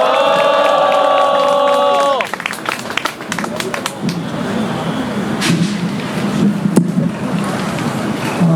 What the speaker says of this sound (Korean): 큰 박수와 함성으로 모시겠습니다.